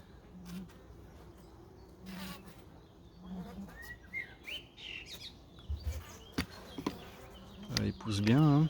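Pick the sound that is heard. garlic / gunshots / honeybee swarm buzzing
honeybee swarm buzzing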